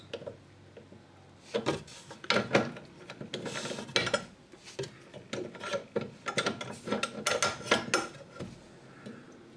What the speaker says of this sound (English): we're using this box spanner or box wrench